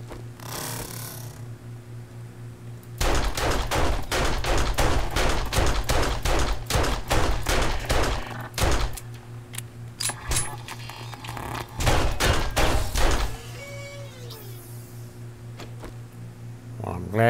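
Video game gunfire in District Zero: long bursts of rapid automatic shots, fairly loud and close, that stop and start in uneven volleys over a steady low background hum, with a brief quiet gap in the middle.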